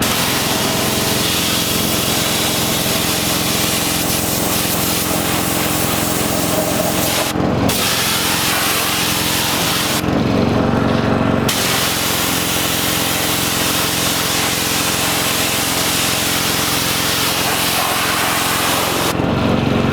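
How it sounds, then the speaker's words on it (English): A pressure washer sprays the front of a car being cleaned of bug and tar residue, a loud, continuous close hiss with two brief gaps where the trigger is released. "get the pressure washer out and see if that'll work"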